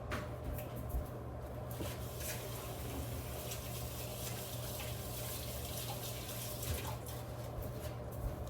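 Sink tap water runs steadily and softly for a quick wash up in a home kitchen during meal prep, a continuous low splash with faint clatter now and then.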